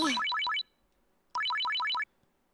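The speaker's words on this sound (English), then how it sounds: "The sound of a ringing phone cut her off." A phone rings in the Steins;Gate 0 video game: two bursts of a bright, repeating electronic ringtone trill, loud and clear, separated by a short silence.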